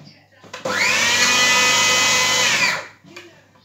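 Electric mixer beating batter with a little milk: a loud, steady whirring drone that starts abruptly, holds for about two seconds, then winds down, with faint handling sounds before and after.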